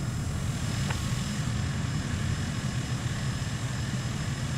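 A light aircraft taxis to general aviation parking along a taxiway at Bournemouth in Microsoft Flight Simulator 2020, its engine a steady, unbroken low drone throughout with no voices.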